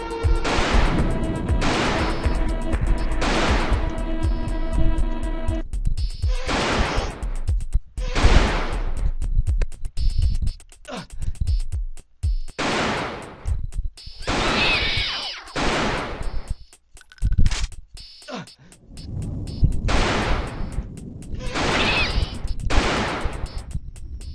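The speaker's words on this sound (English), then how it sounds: "I shot like 13 rockets at him" Rockets fired at an enemy in the Alone in the Dark IV video game: a long run of loud, repeated blasts and explosive bursts, some in quick clusters, with brief pauses between volleys.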